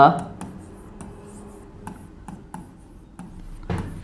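Chalk or marker writing a maths question on a classroom board, a series of short scratchy strokes with brief pauses, faint under a quiet room.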